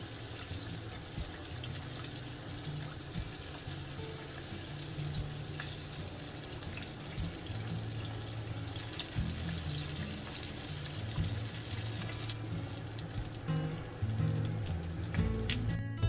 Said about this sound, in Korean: 아까 튀겼던 걸 넣어서 두 번씩 튀겨줄게요